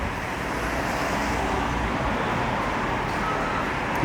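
A matte-black-wheeled Porsche GT3 rolls in among steady road traffic, a broad, even hum of passing vehicles with no distinct engine note standing out, moderately loud and continuous.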